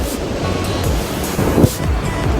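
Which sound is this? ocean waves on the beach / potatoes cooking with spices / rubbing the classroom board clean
ocean waves on the beach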